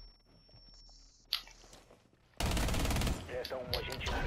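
Gunfire in the tactical shooter video game Rainbow Six Siege, a dense loud burst of rapid shots that erupts suddenly after a quieter stretch with a single sharp crack.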